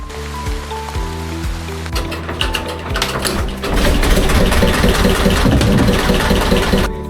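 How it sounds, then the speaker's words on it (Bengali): A trawler engine chugs in a regular rhythm as the boat moves along a river in the Sundarbans, Khulna, Bangladesh, in the rain; the engine grows louder and denser partway through and is joined by the wash of rain and water. "নদীর বুকে ট্রলার এগিয়ে চলেছে"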